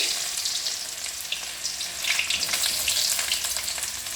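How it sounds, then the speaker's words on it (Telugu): Onions, curry leaves and green chillies frying in hot oil for an egg pepper fry, a bright, continuous crackling sizzle that swells slightly toward the end, close and alone without voices. "కరివేపాకు, కొద్దిగా పచ్చిమిర్చి, ఇవి కొద్దిగా ఫ్రై కావాలండి."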